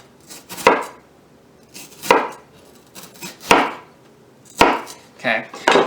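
A knife slicing an onion into thin strips on a cutting board, heard as four or five separate sharp knocks spaced about a second or more apart, close and moderately loud with quiet gaps between them.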